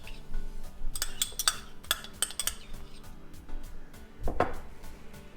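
Mustard chicken marinade being mixed in a bowl: a utensil clinks and scrapes against the dish in quick, irregular taps, close and fairly clear, with a louder clatter near the end.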